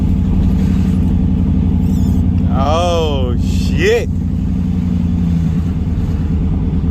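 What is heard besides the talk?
truck engine accelerating while driving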